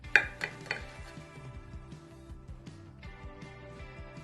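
A knife and fork cut through a thick homemade beef burger, with a few sharp clinks against the plate at the start, then softer scraping and slicing sounds, close and fairly quiet, with no voices.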